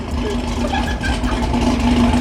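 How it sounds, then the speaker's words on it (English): A Camaro idles at a gas station pump, its engine a steady, fairly loud low drone with a faint whine over it, continuous throughout. "Look at this Camaro that's right next to me getting gas."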